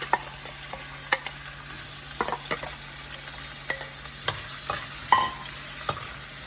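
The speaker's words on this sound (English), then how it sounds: "We just want to give it a little sizzle" Onion and green onion sizzle in a hot pot, giving a soft, steady frying hiss that is broken by scattered scrapes and clicks as the pan is stirred.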